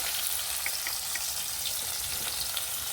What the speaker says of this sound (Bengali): পেঁয়াজটাকে ভালো করে একটু ভেজে নেব